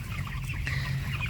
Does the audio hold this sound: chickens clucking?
yes